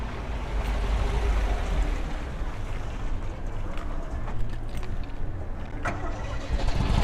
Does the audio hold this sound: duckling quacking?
no